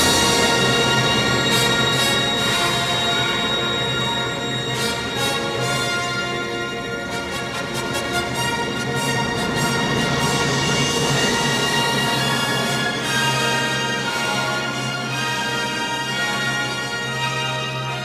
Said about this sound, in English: it's sort of a scream, and so we call it the fright fanfare